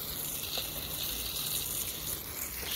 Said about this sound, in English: Now let's just give this lawn a really quick spray down